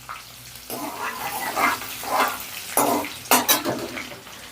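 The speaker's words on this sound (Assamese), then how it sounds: "আৰু এয়া মই অকণমান ধুনীয়াকৈ পিঁয়াজ ৰঙচুৱাকৈ ভাজি ল'ম।" Onions frying in a pan on a gas stove while being stirred, a steady sizzle broken by several louder bursts of crackle and scraping, close and with no talk.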